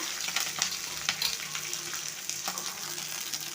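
Green chilies and curry leaves fry in hot oil for a catfish curry, giving a close, steady crackling sizzle with soft stirring sounds mixed in.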